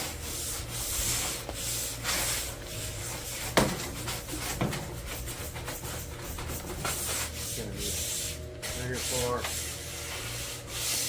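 Someone scrubs hard at a badly green, stained surface, giving rough repeated rubbing and scraping strokes with occasional knocks, close by and uneven, with a brief word spoken.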